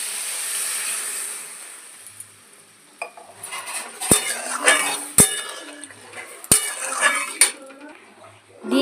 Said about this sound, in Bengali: সামান্য একটু হলুদ আর নুন দিয়ে একটু নেড়ে চেড়ে নেব।